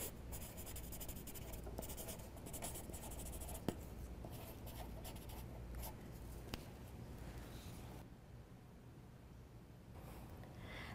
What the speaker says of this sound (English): All that's left to do now is sign your work.